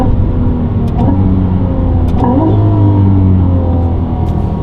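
A Ferrari 296 GTB fitted with a Novitec exhaust and tuned to 868 horsepower revs loudly up close, its deep engine note rising in pitch partway through over a steady throaty rumble, with no talking.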